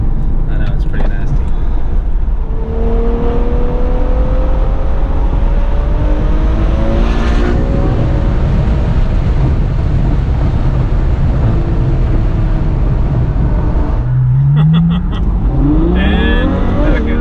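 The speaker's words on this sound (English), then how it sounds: "It's just nasty acceleration. That's just third gear." A Ferrari sports car accelerating hard in third gear, heard from inside the cabin: a loud engine roar climbs steadily in pitch, eases, then surges again near the end, with voices talking over it.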